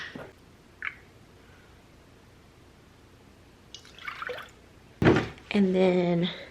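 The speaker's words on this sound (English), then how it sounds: "I'm going to put a half a cup of milk." Half a cup of milk poured into an oversized bowl in a home kitchen: a soft, brief liquid splash midway, preceded by a single faint drip, then a louder clatter and a ringing tone near the end.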